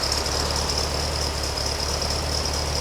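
A 1964 VW Beetle engine running steadily just after being reinstalled, a close, continuous idle with a low rhythmic chug and a faint high whine above it.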